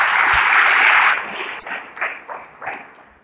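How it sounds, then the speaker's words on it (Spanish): A church congregation applauds, a dense burst of clapping for about a second and a half that then breaks into a few scattered, fading claps. "Le damos un aplauso al Señor por eso."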